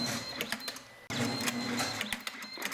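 A wire cutting machine for spark plug wire sets snaps its blades through wire and strip lengths, giving sharp repeated mechanical clicks over a steady motor hum, with one abrupt cut near the middle; nobody speaks.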